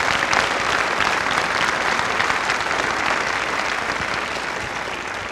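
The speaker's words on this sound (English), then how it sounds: "Round of applause for him and the band" A crowd gives steady, sustained applause for a school band and its director during a high school NJROTC inspection and pass-in-review ceremony. The clapping is dense and loud, then fades slightly toward the end.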